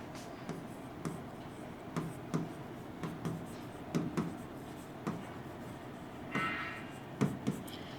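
A pen scratches out a math solution on paper in short irregular strokes and taps, close and quiet, with no voices.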